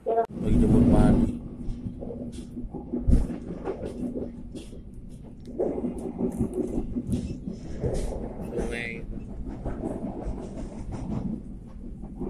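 The Argo Parahyangan passenger train from Bandung pulls in at a station platform on track 4, a low rumbling roll with a heavy thump near the start, while people talk throughout.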